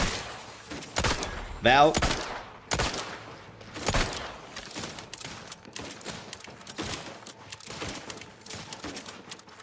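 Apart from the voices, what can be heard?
gunfire in the video game The Outer Worlds 2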